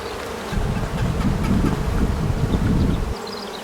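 Honeybees pour out of an opened hive during an inspection, a dense, loud, unbroken buzzing swarm that fills the space close to the listener for a few seconds.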